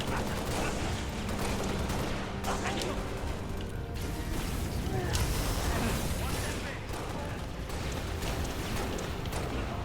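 Dense gunfire and explosions from the Halo: Reach campaign on Legendary, with bursts of shooting, mechanical clatter and battle noise running continuously under a voice.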